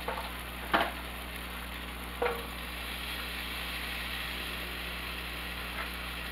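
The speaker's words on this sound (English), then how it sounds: "I'm just going to wipe a little bit of butter on both sides. We're just going to heat it up." Bread wiped with butter on both sides heating in a pan for a corned beef sandwich, a steady faint sizzle running throughout with a couple of brief clicks, close and quiet.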